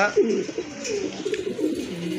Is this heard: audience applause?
no